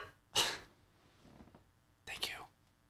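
Two sharp, close sneezes about two seconds apart, each a sudden burst of breath, with quiet breathing between them.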